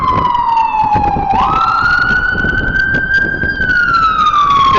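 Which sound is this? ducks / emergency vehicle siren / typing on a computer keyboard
emergency vehicle siren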